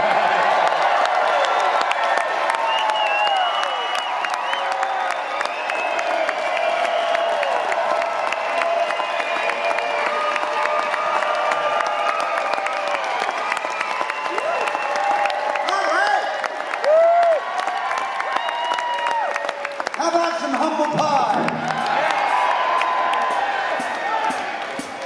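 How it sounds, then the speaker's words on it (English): A concert audience at a show in a casino hotel venue applauds and whoops. The dense clapping and cheering is loud and steady throughout, with no talk over it. "it's so nice to sit here for a minute while we listen to your wonderful applause"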